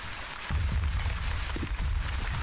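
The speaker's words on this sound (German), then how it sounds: "Es regnet." Rain falls in the city-building game The Wandering Village as a steady hiss. Low patter swells after a quiet opening and stays even to the end.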